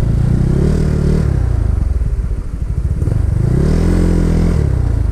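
A small scooter-type motorcycle, a Yamaha Mio, idles and revs on a muddy trail near a waterfall, its engine loud and close with a steady low rumble that rises and falls across the clip.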